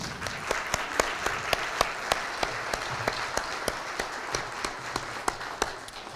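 Sparse audience clapping at a school district address in Hamilton, a moderate spread of hand claps with distinct sharp individual claps standing out at fairly regular intervals, somewhat distant.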